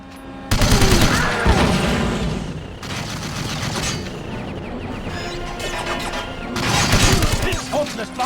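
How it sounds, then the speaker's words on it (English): Defense turrets open fire in the video game 007 Everything or Nothing, with loud sustained bursts of gunfire and crashing impacts that swell and ebb over several seconds. "Activating defense turrets."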